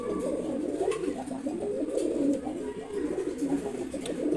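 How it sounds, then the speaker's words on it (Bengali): A male and female silver pigeon pair coo softly in a low, continuous, burbling rhythm, fairly close but quiet, with no talking. "সিলভার গোড়া কবুতর জোড়া, মাদি এবং নর।"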